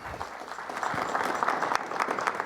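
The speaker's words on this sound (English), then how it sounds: "Give a big round of applause for Tanya, please." A room of attendees at a city ward community forum gives moderate, steady applause, a continuous patter of clapping that sounds somewhat distant and not very loud.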